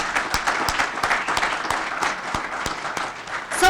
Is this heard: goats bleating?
no